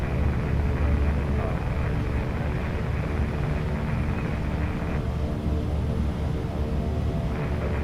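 Steady, loud propeller-engine drone and rumble from a Duke twin-prop plane taxiing in Microsoft Flight Simulator, holding a constant level throughout with no talk.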